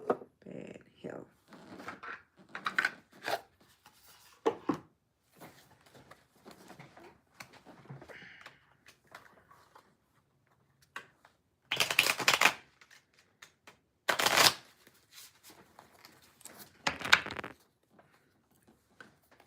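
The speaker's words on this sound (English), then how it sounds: "This is the shuffled tarot here that I'm using" A tarot card deck being shuffled by hand in several separate bursts of papery riffling and slapping, with quieter handling noises in the gaps between them.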